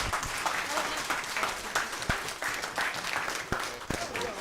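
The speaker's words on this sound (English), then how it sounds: "A round of applause for Jeff Hewitt" An audience at a Friday-night spiritualist weekend gathering applauds steadily, with a few sharp individual claps standing out near the listener.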